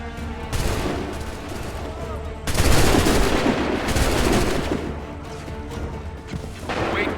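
Musket volleys crack out in Assassin's Creed III, a loud ragged burst of massed gunfire swelling at mid-clip and rolling on as continuous battlefield din, with more volleys crackling near the end.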